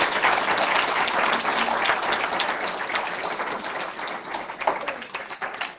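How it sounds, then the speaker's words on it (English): Sustained applause from a sizable crowd, dense steady clapping that holds loud throughout and tapers slightly near the end. "they deserve special recognition and applause at all 3 sites"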